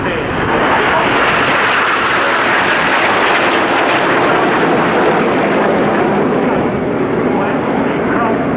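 Frecce Tricolori jets of the Italian Air Force pass at an air show, building to a loud, sustained broadband engine roar that fills the whole stretch.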